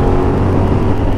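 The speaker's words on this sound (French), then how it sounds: "elle entend le moteur crier" A Suzuki motorcycle engine revs hard under acceleration, a loud, steady, close roar with no voices over it.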